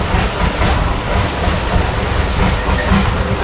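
A boat engine runs steadily on a long-tail craft in Bangkok's floating market, a loud continuous rumble with splashing water noise and a low throb that never lets up.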